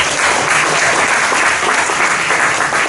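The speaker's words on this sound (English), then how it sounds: "Round of applause." A large audience at an AI and robotics demo day applauds loudly and steadily, with dense, continuous clapping throughout and no break.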